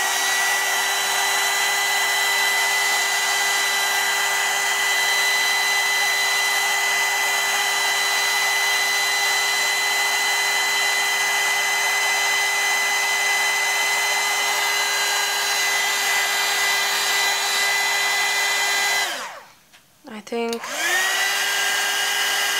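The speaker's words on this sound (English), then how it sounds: "Let me now quickly emboss it." An embossing heat tool blows steadily and loudly over powder on vellum for a card flower, a constant whining hum that briefly cuts out near the end and then restarts.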